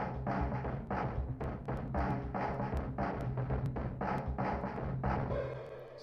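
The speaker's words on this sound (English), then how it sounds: "a very simple drum beat and just a single note in the arpeggiator" A simple, steady drum beat with regular thumping hits runs under a repeating synth note pulsing in time, loud and continuous throughout.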